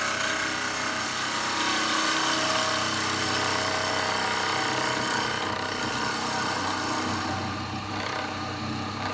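A wood lathe turning a test piece of freshly acquired wood, the tool scraping and rubbing against the spinning blank with slight bevel bounce, a continuous loud rasping whir with no pauses.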